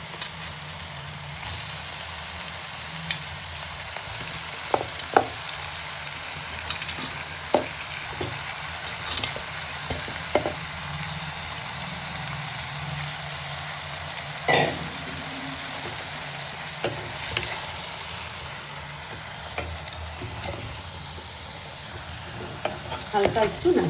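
Chicken pieces with tomato and added vegetables cook in a pan for a stew, giving a low continuous sizzle punctuated by scattered spoon taps and scrapes, moderately close and steady throughout.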